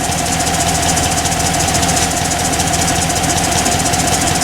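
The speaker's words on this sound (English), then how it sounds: "Lifters are pumping up, it's sounding better." A steady, rapid mechanical ticking of engine lifters rattles over an idling engine with lifter failure and a damaged cam, loud and close, continuous throughout.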